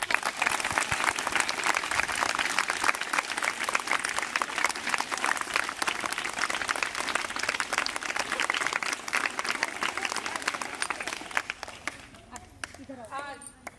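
Students clapping together at a Teacher's Day school gathering, a dense, steady burst of applause lasting about twelve seconds before it fades and a voice comes in.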